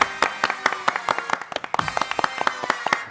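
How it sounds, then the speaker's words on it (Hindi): A small audience at a comedy show claps in short, sharp, uneven bursts, with individual hand claps standing out clearly and close rather than blending into a roar. "तालियां।"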